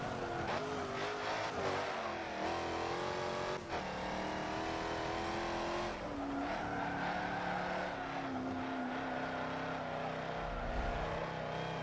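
Hypercar engines from a racing video game, with a steady high-pitched whine and revving that shifts pitch through gear changes, plus brief tire squeals, loud and continuous with no talking.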